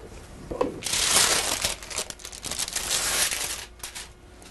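Baking paper crinkles and rustles as a freshly baked whole wheat bread loaf is lifted out of its pan by the paper, a close, continuous crackle with a few sharper crunches.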